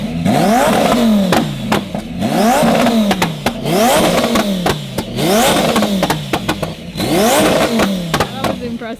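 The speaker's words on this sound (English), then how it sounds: "If I put it in sport and I hold the M button down and then rev it" Lamborghini engine in sport mode revved hard again and again, five loud rising-and-falling blips in a steady rhythm close by, with sharp pops and crackles between the revs and voices talking underneath.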